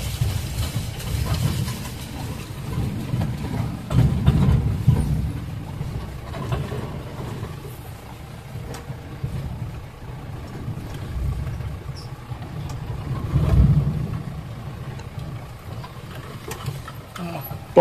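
An off-road vehicle drives fast along a rough, rutted track toward Jhari Waterfall in Chikmagalur, Karnataka, its engine a low continuous rumble with jolts and rattles, swelling louder in a couple of surges.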